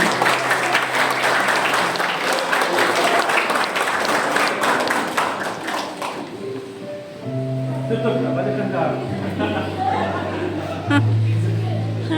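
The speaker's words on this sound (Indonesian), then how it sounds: "Berikan tepuk tangan." Wedding guests at a church ceremony break into applause, a dense burst of clapping that fades as a voice continues over a microphone and music begins.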